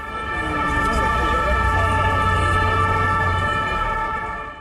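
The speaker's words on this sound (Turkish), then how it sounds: "Eylem sırasında polis araçlarının siren sesleri caddelerde yankılandı" Police car sirens wail steadily and loudly through the whole stretch during demonstrations in Paris, layered tones holding over a low rumble of street traffic.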